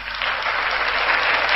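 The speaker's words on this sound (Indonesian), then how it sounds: "Tepuk tangan bagi Tuhan Yesus." A church congregation claps together in dense, steady applause, loud and close, lasting through the whole short stretch.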